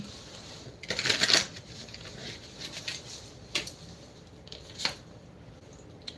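Tarot cards are shuffled close up, a quick riffling burst followed by a few softer flicks and taps, with no voices.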